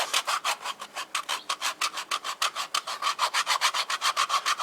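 Ped Egg foot file rasping across the skin of a foot in steady, quick back-and-forth strokes, about five per second, close and fairly loud with no talking.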